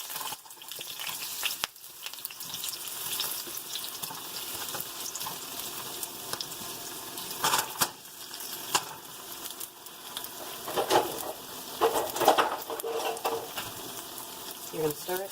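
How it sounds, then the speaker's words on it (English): Potatoes fry in hot sunflower oil in a pan, giving a soft continuous sizzle with occasional crackles and stirring scrapes, fairly quiet and close. "you're going to start frying your potatoes."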